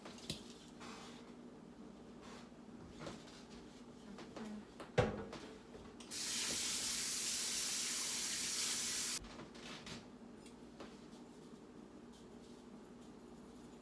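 Raw chicken being washed under a running tap, a short, steady gush of water of about three seconds after quiet handling sounds, close and fairly soft.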